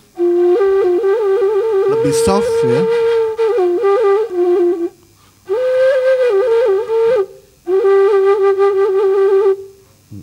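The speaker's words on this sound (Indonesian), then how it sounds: "Dan kemudian di Minang juga ada yang terkenal lagi namanya sampelong ya." A breathy Minangkabau sampelong bamboo flute plays long sustained wavering notes in three phrases, with a brief spoken remark over the first phrase.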